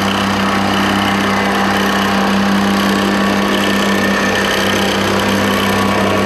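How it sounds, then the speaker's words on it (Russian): A vibratory plate compactor pounds still-hot asphalt during road repaving, a loud, constant engine drone with rapid vibrating thuds, close and continuous with no talk. "Последний этап – уплотнение еще горячего дорожного покрытия виброплитой."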